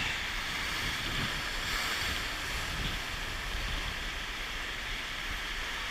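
Stormy surf on a striped bass fishing beach, white water waves breaking continuously with a steady, loud roar and wind across the microphone, no voices.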